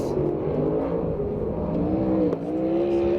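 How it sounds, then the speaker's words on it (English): A 360 sprint car engine drones steadily at high revs on the Perris, California racetrack, a continuous loud roar with slight pitch shifts as the car circles the track. "On the racetrack right now, the number 15 car out of Phoenix, Arizona, R.J. Johnson."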